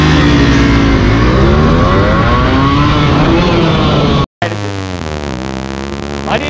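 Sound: Yamaha RX100 and KTM Duke 200 motorcycles accelerating in race

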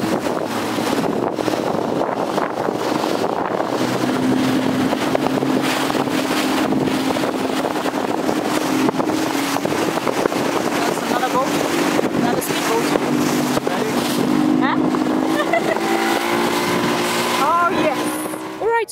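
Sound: jet ski motoring out of the port

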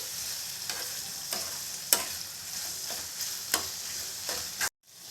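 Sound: stirring ridge gourd curry with tomato and chili powder

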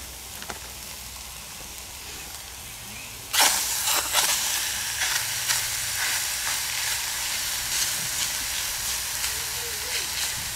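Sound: onions sizzling on a grill

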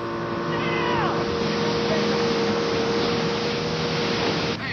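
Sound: runaway motorboat circling on the water

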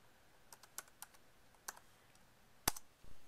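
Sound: typing a password on a MacBook keyboard

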